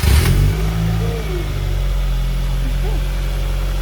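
A barn-find Japanese-market car, warm from a recent drive, runs with a steady low engine drone and a brief rev, heard close and fairly loud, with a faint whine rising over the rumble.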